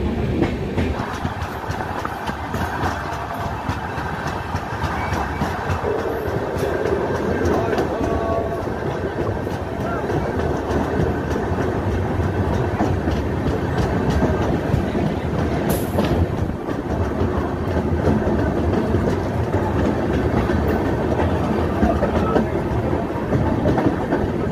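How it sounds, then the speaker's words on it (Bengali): The Howrah–Malda Intercity Express, train 13011, runs at steady speed after leaving Sainthia, with a loud, continuous rumble and clatter of wheels on rails filling the coach for the whole stretch, and a brief squeal partway through. "2 মিনিট এখানে দাঁড়ানোর পরে ট্রেন আমাদের বেরিয়ে যাচ্ছে বন্ধুরা সাঁইথিয়া থেকে"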